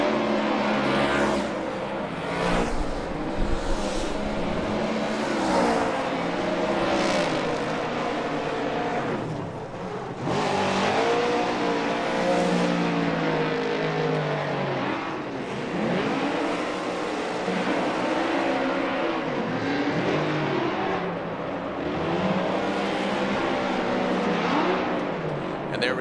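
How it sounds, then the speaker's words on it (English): A Monster Energy Nitto Tire Ford Performance Mustang RTR Spec 5D drift car screams at high RPM during a Formula Drift event, its engine rising and falling loudly in sustained revving wails with tire and crowd noise beneath. "just listened to the wound up engine underneath the hood of that Ford Mustang"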